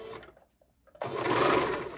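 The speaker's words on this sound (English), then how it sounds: "Now that my sewing machine is working better." After a short pause, a sewing machine starts up and runs steadily, its rapid mechanical whir of stitching filling the second half.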